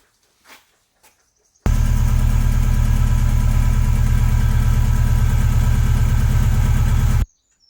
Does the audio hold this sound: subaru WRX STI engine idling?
yes